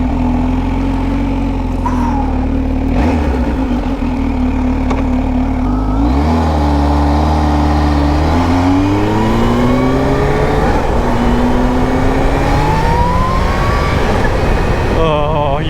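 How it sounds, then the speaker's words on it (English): A supercharged Kawasaki Z H2 motorcycle accelerates hard, its loud engine note rising steeply, dipping at gear changes and climbing again several times with a supercharger whine on top, close and constant throughout. "You could just hear that supercharger."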